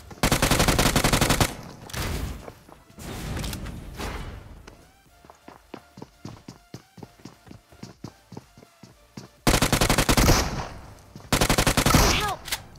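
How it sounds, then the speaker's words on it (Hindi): DBS shotgun fire in the Free Fire video game, loud sustained bursts of gunfire at the start and end, with a quieter stretch of footsteps and scattered shots between. "एक डीबीएस का शॉट मारा इसने और मैं नॉक हो गया भाई"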